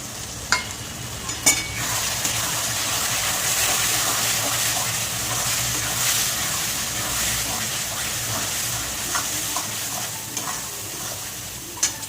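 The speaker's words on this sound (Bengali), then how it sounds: "একটু প্লেটটা দিয়ে জল দিচ্ছি" Chilli, turmeric and cumin powders cook in a pot as a splash of water is poured in from a plate, bringing a bubbling, steady sizzle with a few sharp knocks of the spoon against the rim, close and loud.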